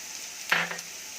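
Ginger-garlic paste drops into hot oil in a pan and gives one short, loud sizzling burst that fades within a fraction of a second, with quiet before and after.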